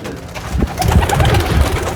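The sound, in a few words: roller pigeons cooing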